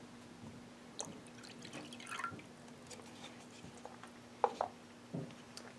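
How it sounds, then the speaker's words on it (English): Water dripping and splashing into a bubbler transducer tank as more is added, with a few sharp, distinct drips and small trickles standing out against a quiet background hum. "I'm going to add a little more water."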